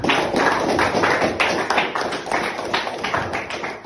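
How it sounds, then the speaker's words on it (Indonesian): Classroom hand clapping from a group of students, a dense patter of many claps in quick succession, close and fairly loud throughout the short stretch. "Tepuk tangan untuk Sintani dulu."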